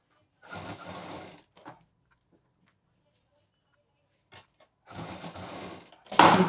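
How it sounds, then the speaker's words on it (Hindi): A sewing machine runs close up in two separate bursts of rapid stitching while a belt is sewn onto a sling bag, with a quiet pause between them and a sharp clunk at the end. "3-4 मशीन चला देंगे, इससे जिप भी मजबूत हो जाएगी उसका किनारा"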